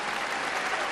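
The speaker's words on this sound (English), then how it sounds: "Come on, she deserves some applause." Audience applauding a contestant at the 1976 Miss World beauty pageant, a brief dense burst of crowd clapping, steady and fairly distant.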